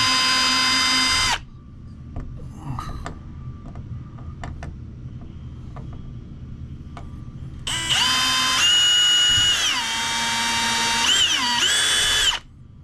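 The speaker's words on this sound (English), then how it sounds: "So we're gonna drill another pilot hole." A power drill whirs loudly drilling a pilot hole, stops for several seconds of quiet scraping and clicks, then spins up again, its pitch shifting as it bites in.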